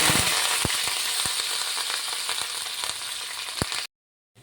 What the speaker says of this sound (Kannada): ಈಗ ಒಣಮೆಣಸು ಕರಿಬೇಕು